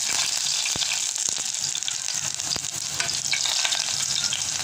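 Sliced onions sauté in hot oil in a pan, a steady loud sizzle and crackle with occasional scraping stirs, close up and with no talking, while a stir-fried saba banana dish is cooked.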